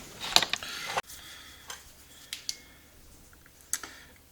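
A 10mm wrench works a bolt on a Maico 660 dirtbike's powervalve in a garage. Sparse metallic clicks and ratchet-like ticks sound close up, with quiet gaps between them and no talk.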